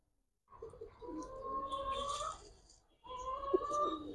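Pigeons from a collection of Giribaz coloring and high flyer birds give two soft, close cooing calls, each a rolling throaty coo lasting a couple of seconds, with a short pause between them.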